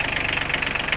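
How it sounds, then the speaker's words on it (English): An engine runs at a steady, rapid idle with a rhythmic knocking pulse, close and fairly loud. "We start the engine."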